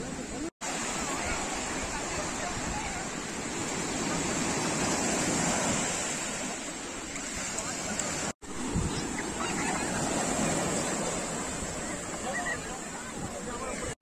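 Sea surf rolls steadily onto a beach near Puducherry, a continuous broad rush of waves blended with wind buffeting the microphone, interrupted by two brief dropouts.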